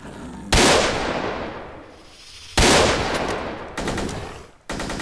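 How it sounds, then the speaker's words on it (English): Four heavy blasts from a powerful shotgun in S.T.A.L.K.E.R. Call of Pripyat with the Arsenal Overhaul mod, each a loud, close boom with a long ringing decay, spaced unevenly over a few seconds. "bit of a powerful shotgun here"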